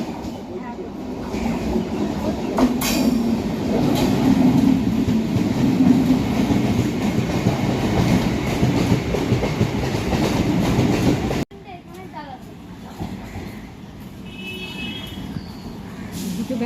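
A Sealdah–Lalgola MEMU train runs with loud, steady rumbling and rhythmic wheel clatter heard from on board, then cuts to a quieter cabin hum with faint rolling and a tonal whine, voices murmuring underneath.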